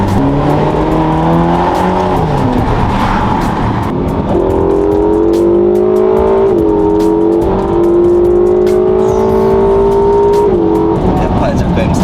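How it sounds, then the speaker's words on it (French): A Ferrari twin-turbo V8 revving hard and loud, its pitch climbing through gears in smooth rising sweeps with brief dips at each shift, close up, with someone talking over it. "le V8 italien quand même, faut l'avouer, ça a une petite sonorité quand même caliente"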